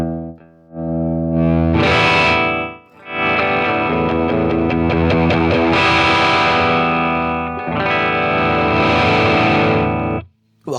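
Electric guitar played through a Line 6 Catalyst amp with the gain being adjusted, heard as loud, sustained distorted chords ringing out in long strummed phrases with brief gaps between them.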